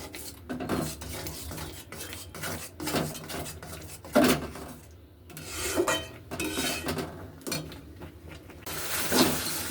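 A spoon or spatula scrapes and knocks against a wok in repeated bursts as soybean paste is stirred to dry it, with close metallic clatter and short pauses between strokes.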